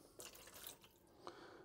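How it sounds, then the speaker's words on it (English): Water pours and splashes into a cooking appliance in a series of faint, close trickles and drips, with no talking. "So we put a little more water in."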